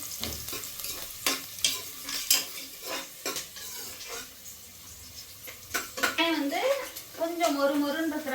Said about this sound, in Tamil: கொஞ்சம் வதக்கினாலே போதும் அப்படியே வதங்கிடும்